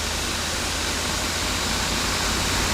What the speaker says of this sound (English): Dad's got the truck going.